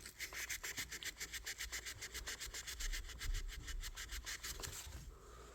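Fine-grit sandpaper is worked back and forth over a vintage knife blade in quick, regular rasping strokes, close and fairly quiet, with no talking.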